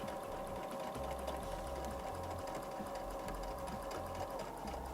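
A sewing machine stitching fabric runs in a continuous steady whir with a fast mechanical beat, close by and alone, with brief pauses in the low thump as the fabric is guided around a curve.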